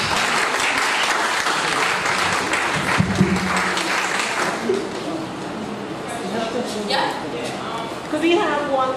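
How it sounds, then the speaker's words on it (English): A symposium audience claps steadily for several seconds, a dense crackle of applause that tapers slightly before a voice begins speaking over it near the end. "Give her a round of applause."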